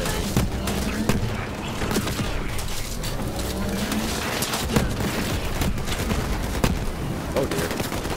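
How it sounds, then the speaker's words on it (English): Gunfire in the video game Borderlands 3, a dense run of rapid shots and bursts with scattered louder cracks, continuous and close across the whole stretch. "He's still shooting at me."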